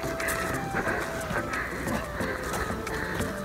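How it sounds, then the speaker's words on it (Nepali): Bird calls and a rooster crowing ring out on a village morning, steady chirps and crows spread across a busy outdoor background with no talking. "सुन्नुहोस् गाइस बिहान चराको आवाज"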